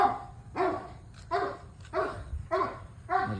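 Dogs on a road bark repeatedly in a steady series of about six sharp, fairly close barks, with a growling, scuffling edge as if fighting.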